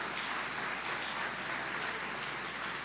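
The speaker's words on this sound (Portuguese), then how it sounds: "Pode aplaudir ao Senhor" A church congregation applauds during a sermon, a continuous, even roar of many hands clapping throughout, with no voices standing out.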